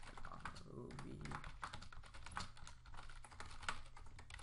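Keys clatter on a computer keyboard as a heading is entered during an HTML lesson. The quick, fairly soft keystrokes run irregularly under quiet speech.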